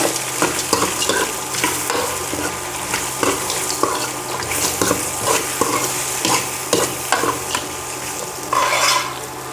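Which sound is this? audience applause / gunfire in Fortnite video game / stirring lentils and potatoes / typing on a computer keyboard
stirring lentils and potatoes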